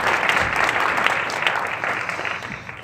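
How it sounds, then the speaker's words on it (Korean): A church congregation gives a round of applause during a service. The clapping is moderately loud and continuous and fades slightly toward the end of the few seconds. "박수 한번 해주시죠"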